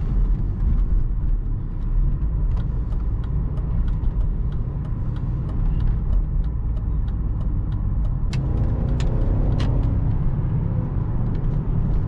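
A tuned V8 car engine pulling hard at full throttle, a loud continuous low roar heard from inside the car, with faint ticks and clicks over it.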